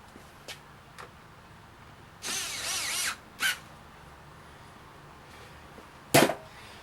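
Power drill tightening a bolt on the rear bumper of a 2008 Jeep Grand Cherokee: one sustained whir of just under a second, followed by a short second burst and a sharp click near the end, with no talking.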